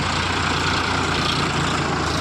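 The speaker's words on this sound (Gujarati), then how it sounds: "જો ટ્રેક્ટર આવી ગયું છે" A tractor engine runs nearby at a steady, rumbling idle for a couple of seconds, loud and even throughout.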